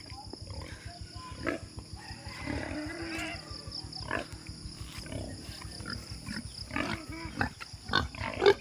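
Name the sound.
pigs grunting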